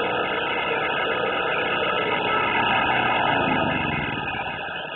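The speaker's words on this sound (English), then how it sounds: "gonna cold start this generator." A generator with a Chinese clone of a Honda 6.5 hp engine runs steadily just after a cold start, giving a loud, constant engine drone with a high whine and no breaks.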